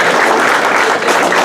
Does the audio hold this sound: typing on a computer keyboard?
no